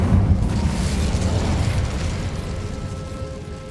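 The Incendio fire spell is cast in Hogwarts Legacy, a deep booming whoosh of flame that swells at the start and then rumbles on, slowly fading, with no talk.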